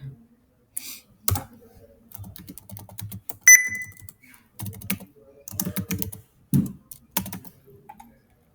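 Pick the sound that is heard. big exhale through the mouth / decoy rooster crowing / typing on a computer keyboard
typing on a computer keyboard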